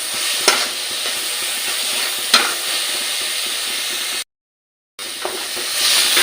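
Carrot sweet being stirred with ghee in a pan, a steady close sizzle and frying hiss with a few sharp spoon scrapes against the pan, briefly cut off before resuming.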